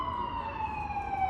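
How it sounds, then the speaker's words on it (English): An ambulance siren wails loud and steady out on a Boston street, its tone gliding slowly downward as it passes nearby. "Ambulance."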